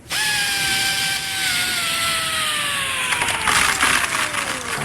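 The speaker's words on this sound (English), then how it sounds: "Now plug in the drill." Power drill boring through a house wall, a loud continuous whine that slowly drops in pitch as the bit labours, with rougher grinding bursts near the end.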